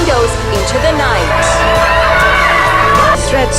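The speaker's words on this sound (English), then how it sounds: "Some citizens are losing it by screaming from their apartment windows into the night." Several people scream and whoop from apartment windows into the night, overlapping loud shouts and yells that keep up steadily throughout over a constant background.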